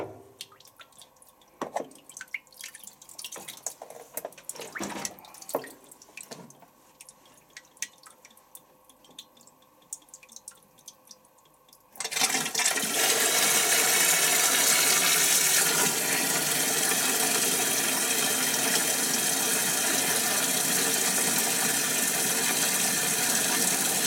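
Hotpoint Supermatic 9414A twin tub washing machine starts filling: quiet drips and small knocks for about twelve seconds, then a sudden loud, steady rush of water pouring in that holds to the end.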